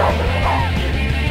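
A short burst of dogs yipping and barking after a dog whistle in the quiz game You Don't Know Jack, loud and close, layered over a steady low musical drone.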